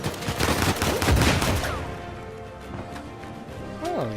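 Rapid pistol gunfire with crashing impacts in the video game Uncharted 4, loud bursts in the first second and a half that fade into quieter game ambience and music.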